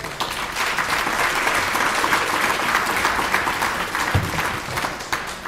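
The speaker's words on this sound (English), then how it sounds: "May I request the room to offer you a resounding round of applause" A room full of people at an education festival gives a sustained round of applause, dense and even throughout, fairly close and loud.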